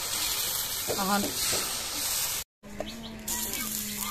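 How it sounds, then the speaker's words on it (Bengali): Oil heating on a tawa griddle hisses with a steady broadband sizzle, briefly cut off partway, while a voice speaks over it. "আগে তেল দিয়ে তাওয়াটা ফুটতে লইছি।"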